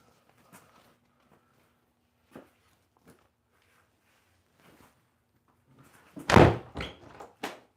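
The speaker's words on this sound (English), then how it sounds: "I'm trying to do the door slam thing because I see that in movies." A single hard door slam lands loudly near the end, followed by a couple of smaller knocks and rattles, with scattered faint thumps and footsteps earlier on a quiet film set.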